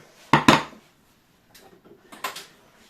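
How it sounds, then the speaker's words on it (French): Dishes being emptied from a small dish rack in a home kitchen, with a few sharp clattering knocks close up, a pause, then softer clinks and one more clatter. "essuyer ça, vider mon petit bac à vaisselle"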